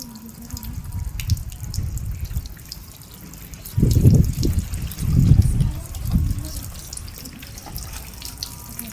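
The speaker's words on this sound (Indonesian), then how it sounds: "Siram seluruh tubuh jenazah dengan air yang telah dicampur dengan daun bidara." Water mixed with bidara leaves is poured over a body during a ritual washing, heard as close, loud splashing pours in several uneven bursts with trickling and dripping in between.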